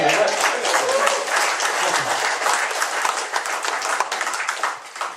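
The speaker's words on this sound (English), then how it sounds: "Bit of a round of applause for that" A room of people at an evening gathering clap for a Chiari malformation awareness race, a continuous dense burst of applause with scattered cheering voices, fading slightly toward the end.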